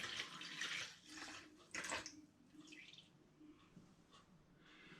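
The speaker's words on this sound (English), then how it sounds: "So I've got my measuring jug, and I'm just going to pour in from the demijohn." High-strength spirit pours from a demijohn into a measuring jug, a soft splashing stream that is strongest at first, then surges again before thinning into gentle trickles and drips, quiet and close.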